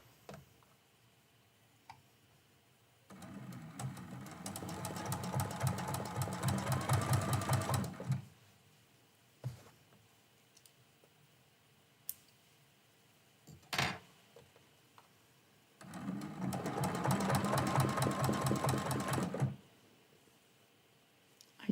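A sewing machine stitches down applique while quilting a Christmas quilt block, running in two sustained bursts of rapid rhythmic stitching separated by a quiet pause with a few clicks.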